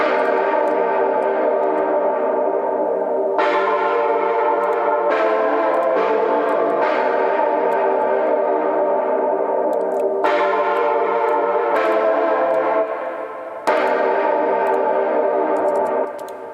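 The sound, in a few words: reverb effect swelling in on music sample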